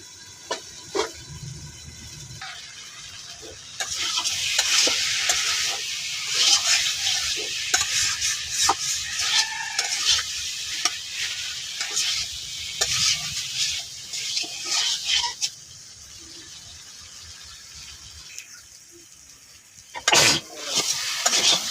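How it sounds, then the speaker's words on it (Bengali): Spices being stir-fried in a pan for a Bengali fish curry, a steady sizzle with scraping stirs that swell louder in the middle and ease off toward the end. "মশলাটা একটু কষানোর জন্য একটু ডাইকে দিতেছি"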